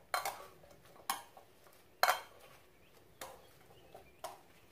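Seasoned edamame mixed in a bowl, several separate clattering tosses and clinks at irregular intervals, close and fairly quiet, with quiet gaps between and no talking.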